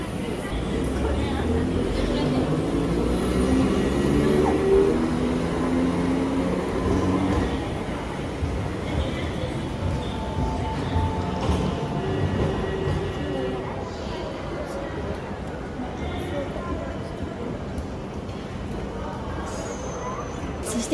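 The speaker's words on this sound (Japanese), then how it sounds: "駅を出ると富山市電のレトロ電車に遭遇。" A retro Toyama city tram rumbles near the station on a rainy day, a continuous rolling rail drone that softens after a few seconds.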